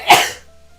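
A single sharp sneeze-like burst from one person, loud and close, fading quickly into quiet with a faint lingering tone; a game curse is the cause.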